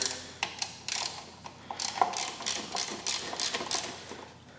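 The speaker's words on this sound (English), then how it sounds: "we are going to be removing this oil tank. It's just one 10 millimeter bolt at the top here." A ratchet works a single 10 mm bolt at the top of the oil tank on a 1983 Yamaha DT80 Enduro motorcycle, giving bursts of close, crisp mechanical clicking in an uneven rhythm with short pauses between strokes.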